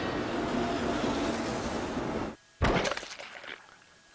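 Train in a station from Steins;Gate Elite braking hard: a loud sustained grinding rumble that cuts off abruptly, followed by a sharp crashing burst and decaying screeching clatter, with no voices.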